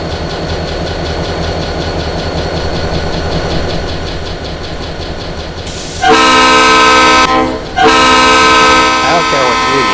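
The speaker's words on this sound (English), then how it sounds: "This New York subway train, modified for use on a third rail electric interurban railway." An electric New York subway train adapted for a third-rail interurban line, in a train simulator game, rumbles steadily and loud, then a sustained horn blares twice near the end, briefly pausing between blasts.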